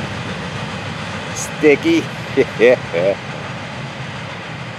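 FEC109 train on the railway in warm, damp weather makes a continuous low rumble from start to end, with a few short spoken words over it.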